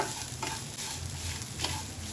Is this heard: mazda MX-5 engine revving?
no